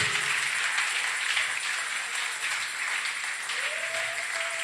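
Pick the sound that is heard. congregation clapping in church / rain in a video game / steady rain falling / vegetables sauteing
congregation clapping in church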